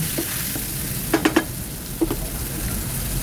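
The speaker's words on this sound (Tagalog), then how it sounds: "Haluin lang natin." Pork offal frying in a pan as it is stirred, a steady sizzle with a few sharp utensil scrapes and clinks against the pan, no talking.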